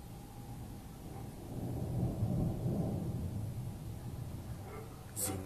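Thunder rolls during a strong thunderstorm near Chełm Śląski, Poland: a low, distant rumble swells after a couple of seconds and slowly fades over steady storm noise, with a brief sharp sound at the end.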